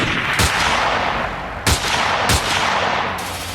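Gunfire sound effects in a reconstructed Mossad commando hostage-rescue raid: a loud, dense burst of shots with a few sharper distinct cracks punctuating the sustained rattle over several seconds, no voices heard.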